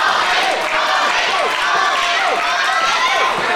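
A dense professional wrestling crowd under a big top cheers and shouts loudly, with excited voices overlapping throughout.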